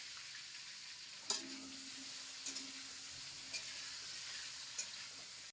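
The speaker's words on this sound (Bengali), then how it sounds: "মাছটা হালকা একটু ভাজা দিয়ে নেব।" Shing fish frying lightly in hot oil, a steady soft sizzle running throughout with a few brief louder crackles and stirring knocks, no voices.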